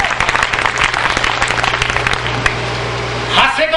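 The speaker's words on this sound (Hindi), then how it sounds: "एक बार जोरदार तालियां मंच के लिए।" A crowd at a Hindi comic poetry gathering applauds the stage, dense continuous clapping that fills the whole stretch, loud and steady, with a speaker's voice over the microphone.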